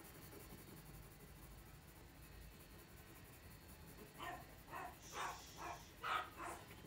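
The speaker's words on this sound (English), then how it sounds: "that's the dogs downstairs barking" Dogs barking downstairs in a house come through faintly and muffled from another room, a short run of about six separate barks in the second half after a quiet stretch, with no one talking.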